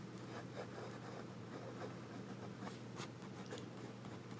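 A Daintree fountain pen nib writing on paper with Blackstone ink, giving a steady, close scratching with repeated short stroke bursts over a constant low hum, and no talking.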